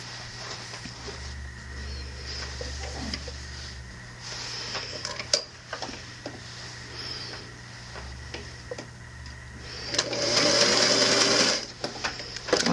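A sewing machine runs in steady bursts as it stitches a fabric seam, with a low motor hum and fast needle ticking that grows louder and busier near the end, with no talking.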